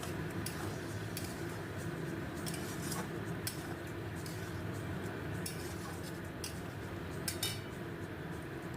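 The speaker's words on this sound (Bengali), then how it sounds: "ক্যাপসিকাম আর পেঁয়াজ দেওয়া হয়ে গেলে মশলার সাথে ভালোভাবে নাড়াচাড়া করে নিচ্ছি।" Capsicum and onion with spices being stirred in a pan while cooking chilli fish: a faint, steady sizzle with soft, irregular scrapes and taps of a utensil against the pan.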